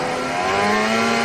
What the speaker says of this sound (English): So the sound you can hear is a replay of Norris leaving the pits